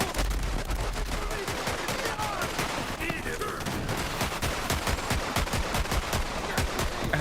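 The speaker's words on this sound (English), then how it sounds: "Someone threw grenades." Borderlands 3 combat erupts with dense, rapid gunfire and blasts from grenades, a continuous loud barrage of sharp bangs with no letup throughout.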